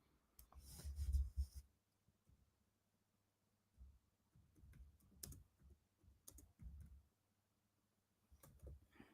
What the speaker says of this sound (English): Trying to type, trying to type one on here